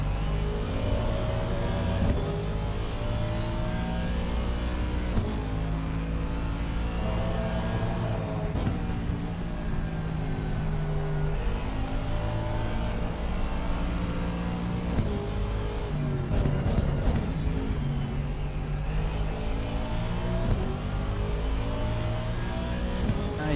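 Race cars, including a Lexus, power through corners during the 24 Hours of Kyalami endurance race. Engines rise and fall in pitch as drivers lift and accelerate, with a loud continuous roar throughout.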